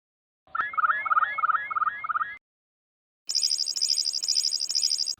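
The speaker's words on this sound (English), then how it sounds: "The wood thrush in particular takes full advantage of being able to produce two sounds at once" A wood thrush sings two clean phrases, each an overlapping pair of simultaneous tones. The first is a rapid run of rising flute-like notes, then after a short pause comes a higher, buzzy, rapidly trilled phrase, heard alone against silence.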